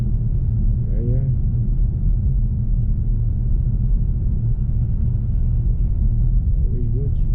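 Steady low road rumble inside a BMW i4 M50 on an evening drive before Christmas, continuous throughout, with a brief muffled voice near the start and end.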